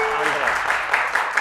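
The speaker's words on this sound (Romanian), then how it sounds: "Mă ajutați cu niște aplauze?" Studio audience on a Romanian television talk show breaks into steady applause, a dense wash of clapping that holds evenly throughout, with a voice briefly audible at the start.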